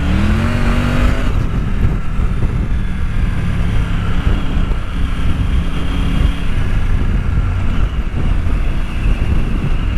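Adventure motorcycle riding off-road, a steady loud engine drone with wind buffeting the microphone throughout, rising briefly in pitch at the start and holding a continuous rumble with no talk.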